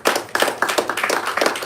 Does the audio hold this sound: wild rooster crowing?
no